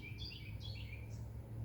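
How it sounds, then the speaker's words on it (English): Small backyard birds chirp near a nest in a birdhouse, a few short high tweets standing out faintly over a steady low outdoor hum, with no talk. "It's the papa bird."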